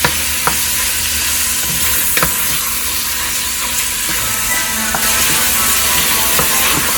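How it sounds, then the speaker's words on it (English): Shrimp for Cajun pasta sizzle and fry steadily in a pan, a loud continuous hiss with occasional stirring clicks and scrapes throughout, no voices. "We're going to cook this until the shrimp are cooked."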